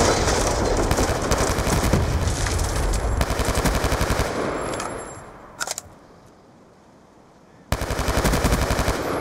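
Rapid automatic M27 rifle fire in a Raid map video game match, loud sustained bursts for about four seconds, a brief pause with a short shot, then another sustained burst near the end.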